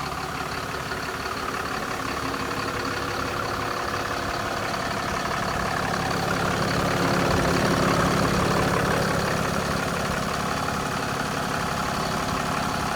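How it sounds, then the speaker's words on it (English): A 2020 Ram 4500 truck idles with a steady, close diesel-like rumble and mechanical chatter, the low drone holding even for the whole stretch and swelling slightly midway, with no talking. "I've got the truck idling for you."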